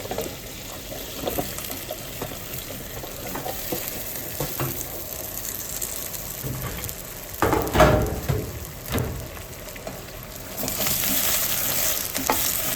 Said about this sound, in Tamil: இதை நல்லா வதக்கிட்டு